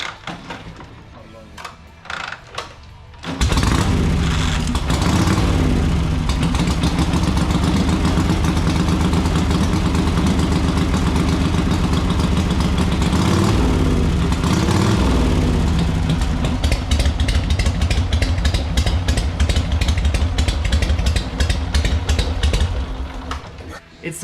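A stock motorcycle engine with aftermarket exhaust pipes fires up and idles with a deep, throaty, loud burble, its uneven pulsing exhaust note continuing steadily up close.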